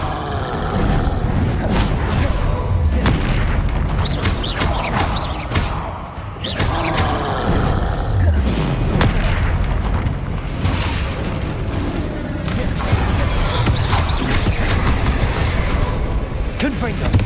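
Confringo fire blasts in Hogwarts Legacy, loud, dense booming bursts piling up continuously amid other spell effects, with a voice talking over the action throughout.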